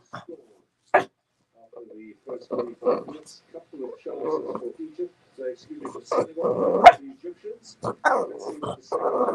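A dog barks and whimpers in short yelps and whines scattered through a home setting, mixed with people talking and occasional louder bursts, with a football match watch party going on.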